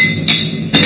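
Two loud, ringing hammer blows on hot metal at a blacksmith's forge, spaced about half a second apart, close and sharp over steady workshop background noise.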